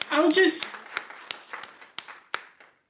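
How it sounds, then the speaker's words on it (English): A single person claps in an attic, a series of sharp, separate hand claps spaced irregularly and fading in strength, following a brief burst of talk at the start. "I'm clapping in my attic"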